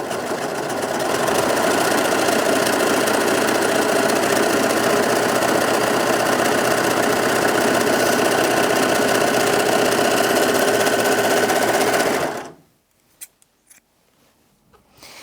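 A Brother 2104D overlocker runs steadily through a single layer of fleece, a loud, continuous whirring chatter for about twelve seconds that cuts off abruptly, followed by a few faint clicks.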